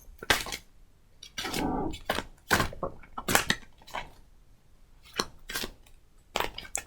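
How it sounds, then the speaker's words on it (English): Quick, irregular papery riffles and slaps of cards being shuffled, coming in short bursts with brief pauses between them, close to the microphone. "as I'm shuffling out these cards"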